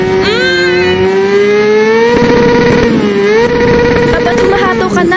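A motorcycle engine revs hard at full throttle close by, a loud sustained high whine that dips and climbs again as the throttle is worked, filling the whole stretch without letup.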